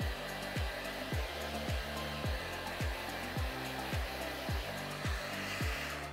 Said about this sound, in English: you can pop off the top and you can use it as a rough dry blow